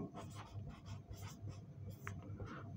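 Chalk or marker writing examples on a board in a classroom, soft scratchy strokes in an irregular rhythm, fairly faint and close, with no talking over it.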